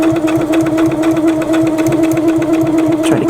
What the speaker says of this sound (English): We continue sewing all the way around.